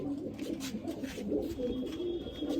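Nesting pigeons, breeding pairs kept in a loft where one pair has laid an egg, give soft, low repeated coos, fairly faint and close, with no talking.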